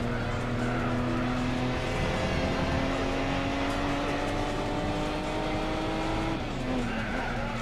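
Racing car engine in Gran Turismo 4 during a Hyundai one-make race, a loud steady whine climbing in pitch with a shift near the end, tire squeal mixed in, no talk.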